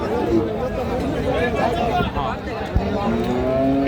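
Friesian cross heifer calves at a cattle market in Raniganj, a cow's moo rising over a busy crowd babble with people talking nearby.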